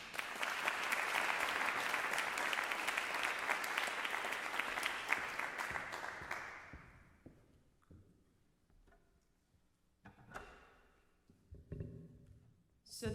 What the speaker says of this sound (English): Ladies and gentlemen, please give her a round of applause